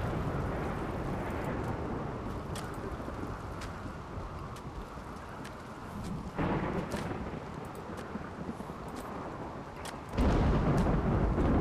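Thunderstorm in the game Rimworld: a continuous roar of heavy rain and rumbling thunder, with louder surges partway through and at the end, no voices.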